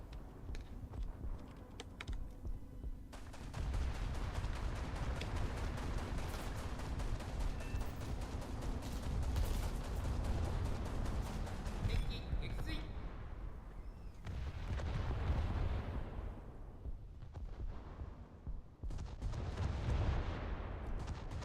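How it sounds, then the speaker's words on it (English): Aircraft gunners firing in War Thunder, a dense, continuous rattle of gunfire with heavy rumbling booms running throughout, close and loud, with keyboard clatter mixed in. "And while my gunners are shooting in an empty sky"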